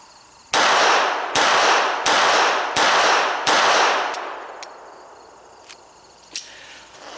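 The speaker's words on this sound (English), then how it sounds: "I'm 3 yards, I'm aiming at the head, slow deliberate fire. This is the Winchester silver tip hollow point." Five loud, sharp shots from an NAA Guardian .32 pistol firing Winchester Silver Tip hollow points at 3 yards, spaced evenly about a second apart in slow deliberate fire, each with a ringing tail, followed by faint clicks.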